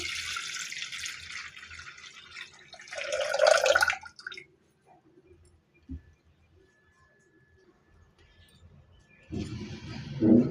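Water pours into a pot, the same one used for boiling lentils, to make rasam, heard as two short splashing bursts separated by a quiet gap, close by with no talk.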